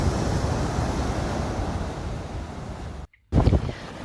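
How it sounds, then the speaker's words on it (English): Ocean waves wash onto a volcanic beach as a loud, continuous roar of surf and wind, briefly cut to silence near the end before the rushing noise resumes. "the sound of waves, volcanic rocks, and hidden natural ponds."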